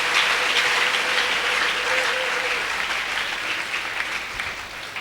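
Congregation at an evangelical church gathering applauds for Jesus Christ, a dense, sustained wave of clapping from a large crowd, slowly fading, with a brief tone and some voices underneath.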